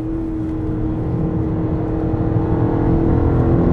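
BMW M5 CS, a 635-horsepower car driven hard on a closed course, heard from inside as a loud, steady engine drone that rises gradually as it accelerates.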